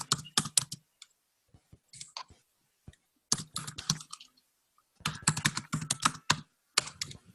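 Typing on a computer keyboard in bursts of quick, close clicking keystrokes separated by short pauses, with no talking.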